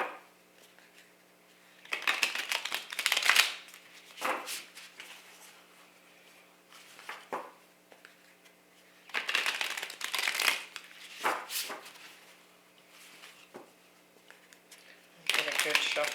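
Tarot cards being shuffled in bursts of crisp riffling and patter, a few seconds each with quiet gaps between, close and fairly loud.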